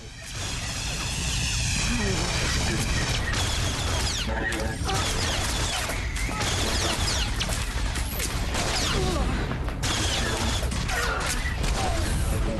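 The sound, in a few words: droids cutting through a door, Star Wars: The Old Republic video game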